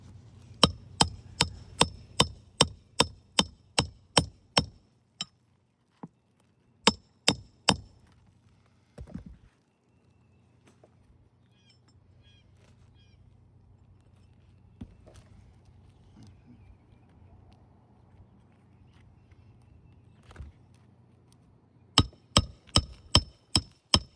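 Rapid, evenly spaced hammer blows on a roof ring out in bursts of several strikes, separated by quieter pauses with a low background hum, then resume at the end.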